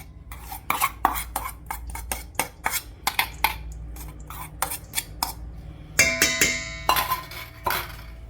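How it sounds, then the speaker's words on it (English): Spoon or whisk scraping and clinking against a bowl as diced shallots are stirred into mayonnaise for Belgian Joppie sauce, a steady run of close, sharp strokes that turn into faster, busier stirring near the end. "Going to give this a good mix."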